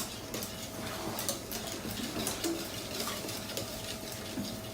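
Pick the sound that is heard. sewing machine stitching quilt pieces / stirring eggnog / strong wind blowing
stirring eggnog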